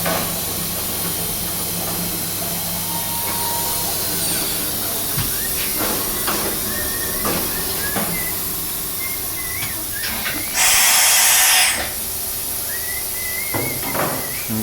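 A DMG Mori DURA vertical 1035 machining center runs at 5,000 RPM with a steady high whine and hiss, punctuated by scattered clicks and a brief loud blast of air or coolant spray partway through.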